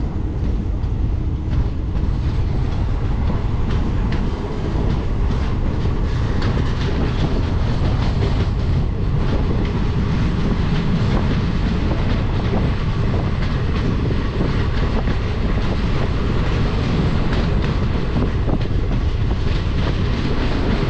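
An old ICF-coach Holi special train runs at speed, a loud continuous rumble and rattle from inside the carriage with rhythmic clickety-clack of wheels over rail joints throughout.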